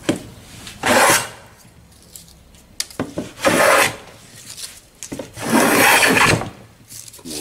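A hand plane smooths wood for building a Spanish guitar, three rhythmic rasping strokes close by separated by quieter pauses with small knocks and handling sounds.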